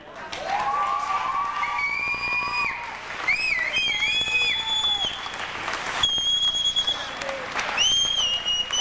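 Audience applause at a 1994 barbecue crowning event, steady clapping and cheering running the whole time, with whistles and children's shouts rising above the crowd.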